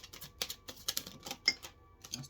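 Tarot cards shuffled close by, a rapid run of crisp, papery flicks and clicks in uneven bursts.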